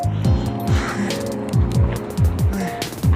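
A car slows as it drives by, its low engine tone sliding downward again and again as it eases off, with scattered clicks and a hint of background voices.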